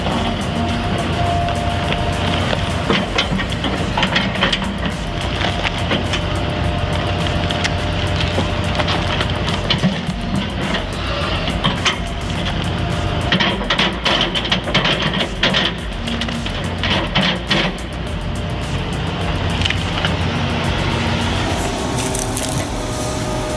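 An excavator-mounted stump grinder chews into a tree stump, making a loud, continuous grinding roar with wood splintering and cracking over the machine's steady drone.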